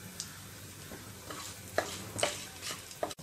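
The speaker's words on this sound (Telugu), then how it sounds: "ఇవి కొంచెం వేగిన తర్వాత జీడిపప్పు వేసుకొని కూడా వేయించుకోవాలి." Chana dal, urad dal, mustard seeds, cumin, dried red chillies and cashews fry in oil in a pan. A soft, quiet sizzle runs under a few spatters and spoon scrapes, ending with a sharp knock.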